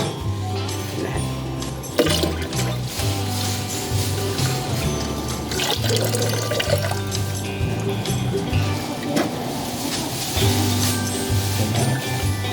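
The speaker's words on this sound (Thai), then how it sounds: "นี่มันเทลงเห็นไหมใสๆมาน็อกน้ำเย็นนะฮะนี่" Bua loy dessert made with mun luead nok sweet potato is poured into cold water, giving continuous liquid pouring and splashing with occasional clinks of utensils, close and fairly loud over background noise.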